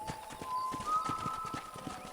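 Steady rhythmic clip-clop of horse hooves at a walking pace in the video game Red Dead Redemption, fairly quiet, with a faint tonal hum in the background.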